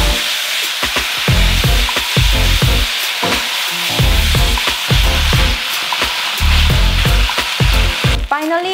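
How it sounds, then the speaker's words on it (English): Beef chow fun noodles stir-fry with sauce in a hot pan, giving a loud continuous sizzle broken by rhythmic scraping and tossing strokes about once a second, close up. "toss, toss, toss, and stir fry away until noodles got softened and fully cooked"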